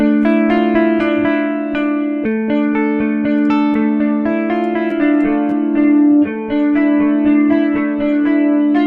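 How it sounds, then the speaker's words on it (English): Sustained electronic synth chords from a Kontakt library washed in swirling flanger and chorus modulation with a reverb tail, rhythmic and loud throughout. "So I put on a flanger, a chorus, and a reverb."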